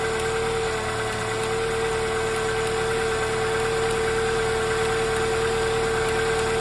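A Ford Galaxy idling steadily after a cold start at -16°C, the engine a constant low hum with a fixed whine on top and faint ticking, heard close and alone.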